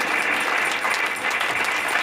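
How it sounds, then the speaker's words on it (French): Church congregation applauding during an evening preaching service, a dense, steady crackle of many hands clapping at once, filling the room evenly for a couple of seconds. "Acclame encore Jésus-Christ"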